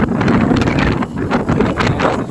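Wind buffets the microphone during a ride along a road toward Tagaytay, a steady broadband roar with gusty surges that stays loud for the whole stretch, with no talk.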